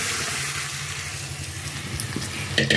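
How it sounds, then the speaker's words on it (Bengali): Cooked dal poured into a hot wok over curry leaves fried in oil gives a dense, continuous sizzle and bubbling hiss, close and loud, with a few clatters near the end. "এখন আমি এই ডালটা কড়াইতে ঢেলে দিলাম"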